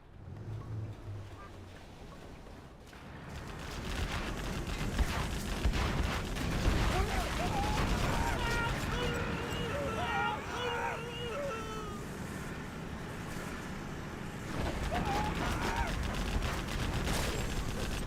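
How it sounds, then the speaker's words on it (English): Dense, rumbling barrages of tank artillery fire in a real-time strategy game roll on continuously with overlapping blasts, under a caster's steady commentary. "Artillery now from the tank."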